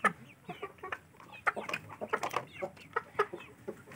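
Aseel chickens cluck in a steady run of short, close calls, with several birds overlapping and no voices.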